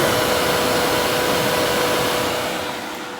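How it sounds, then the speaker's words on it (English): Aftermarket fans behind the radiator of a 2012 Suzuki DRZ 400E motorcycle whir in a steady close hum that tapers slightly at the end, with no voices. "they put fans behind the radiator"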